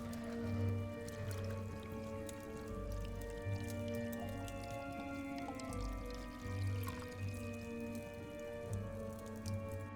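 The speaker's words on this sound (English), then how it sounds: "And let's strain right into the glass." A unicorn blood cocktail is strained and poured into a punch glass, giving a quiet, steady trickle of liquid with scattered drips throughout, close and without talk.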